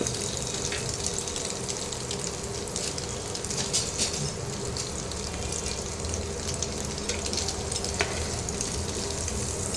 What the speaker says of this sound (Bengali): এরকম হালকা হালকা করে পনিরটা ভাজতে হবে এবার পনিরটা তুলে নিচ্ছি